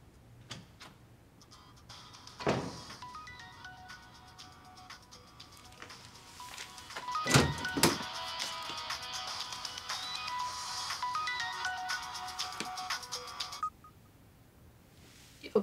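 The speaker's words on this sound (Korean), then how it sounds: "야, 미나리, 너 이제서야 내 전화 받냐?" A mobile phone left behind at home plays a tonal electronic ringtone for roughly eleven seconds, fairly quiet but clear, with a few sharp knocks and handling noises at the start and end.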